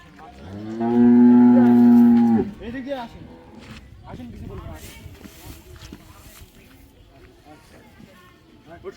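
A young Friesian cow gives one long, loud, close moo lasting over a second, then voices talk over a busy outdoor background.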